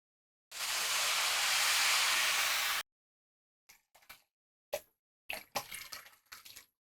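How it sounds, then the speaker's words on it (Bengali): Hot water pouring from a measuring cup onto rice and mung dal in a pot for khichuri, a loud continuous gush for about two seconds, then silence broken by a few short splashy pours and drips. "পানিটাও আমি মেপে দিচ্ছি চাল ডাল যেহেতু ছয় কাপ আছে পানি দিব আমরা বারো কাপ"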